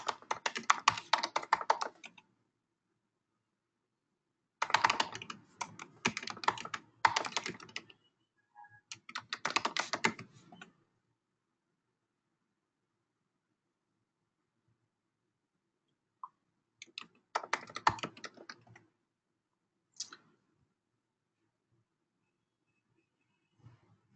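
Typing on a computer keyboard in bursts of rapid clicking keystrokes separated by long silent pauses, close and clear with no talking.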